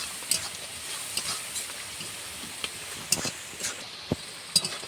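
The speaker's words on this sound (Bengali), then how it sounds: "এবার জিরি মশলাপাতি গুঁড়ো, হলুদের গুঁড়ো, লবণ এই দিয়ে দিলাম, একটু ফুটিয়ে নেবো" Onion, garlic and chilli frying with cumin, turmeric and salt for a chickpea lentil curry: a steady sizzle with scattered pops and intermittent stirring scrapes against the pan.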